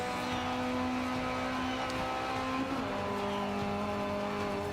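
A car laps a race track in Forza 5, a steady engine drone holding one pitch that later shifts, with faint tire noise and no talk over it.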